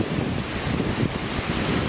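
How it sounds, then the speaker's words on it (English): A waterfall roars as a steady broadband rush at its base, loud and close with some wind buffeting the microphone and no voices. "We're down at the base of the falls now. This is the most beautiful waterfall."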